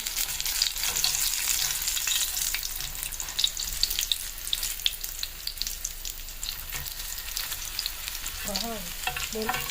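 Aloo tikki potato patties fry in oil in a pan, a continuous crackling sizzle with busy spatters and a brief scrape of stirring near the end.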